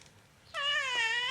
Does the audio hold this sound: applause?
no